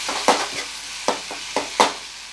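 Onion tomato gojju cooking in oil in a pan, heard as a soft steady sizzle broken by about five sharp scraping stir strokes at an uneven rhythm, close by, with no voices.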